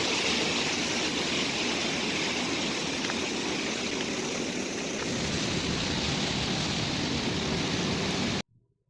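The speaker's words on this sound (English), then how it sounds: "Listen to how the rivers of water are roaring." Rivers of water roar in a dense, continuous rush that holds steady for several seconds before cutting off abruptly into near silence.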